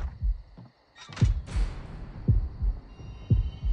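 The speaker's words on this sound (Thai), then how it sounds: "หัวใจเต้นแรงขึ้นเรื่อยๆครับ" In the mobile survival horror game Horrorfield, a heartbeat thumps in steady low pulses under a faint electronic hum, broken early by a brief whooshing rush.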